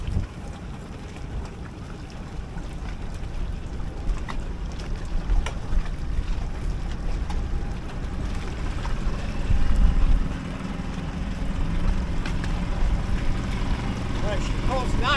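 Sailboat's inboard engine running at medium throttle as the boat leaves the dock on Long Island Sound, a steady low rumble with wind noise throughout and people talking over it.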